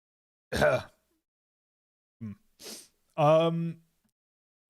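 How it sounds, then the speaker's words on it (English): A sharp, breathy burst like a sneeze, followed after a pause by a few short sniffs or snorts and a brief voiced sound. "I'm about to sneeze"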